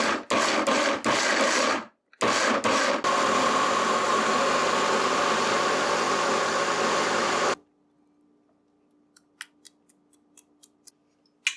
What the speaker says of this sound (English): We got scallions and garlic as well in this blender. We're gonna blend this up.